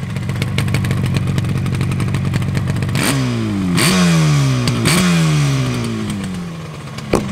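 A close, raspy two-stroke engine of a 1974 Yamaha RD350 motorcycle idles, then revs sharply three times, pitch rising and falling with each blip before settling back to a burbling idle.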